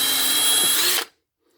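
A power drill boring a hole, with ice nearby: one loud, close, steady whine that runs for about a second and then cuts off abruptly into silence.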